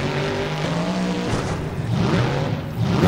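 A monster truck in a video game freestyle run, driving over vans and cars and pulling a wheelie: a continuous loud engine drone with shifting pitch and revving, close and steady throughout, with no talk.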